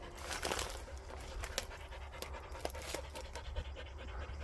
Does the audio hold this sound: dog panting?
yes